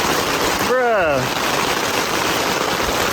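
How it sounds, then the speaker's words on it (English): Heavy rain pours outdoors in a steady, dense broadband hiss that continues unbroken, with a brief spoken exclamation over it near the start. "It is raining so much now!"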